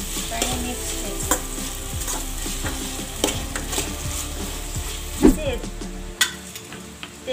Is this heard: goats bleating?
no